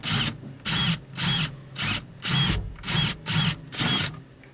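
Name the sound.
drill drilling the head off a rivet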